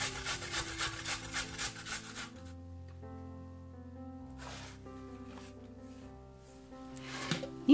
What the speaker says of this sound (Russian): А морковь натираем на крупной терке.